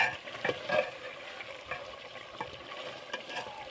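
Chicken stir-fried with garam masala sizzles in a pan while a spoon stirs and scrapes through it, making irregular soft scraping bursts over a quiet, steady frying hiss.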